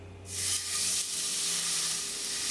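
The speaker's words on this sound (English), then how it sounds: "Let's introduce the steak. Covered with all that seasoning, listen to the sound." Herb-spice seasoned organic filet mignon dropped into a skillet heated to about 500 degrees bursts into a loud, close, steady sizzle that begins abruptly and hisses on without letup.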